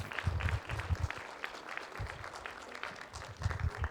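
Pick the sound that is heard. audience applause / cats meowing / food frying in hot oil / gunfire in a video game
audience applause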